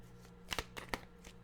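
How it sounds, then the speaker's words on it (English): A deck of tarot-style cards is shuffled by hand at close range, a few quick riffling bursts of papery flutter and slaps separated by short pauses. "I think I just cut the cards, but for some reason I'm shuffling again."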